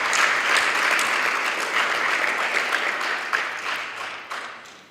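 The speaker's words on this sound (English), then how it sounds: "Can you also give yourself a round of applause?" Audience at a student support services indaba giving a round of applause, dense steady clapping that starts full and gradually thins and fades over several seconds.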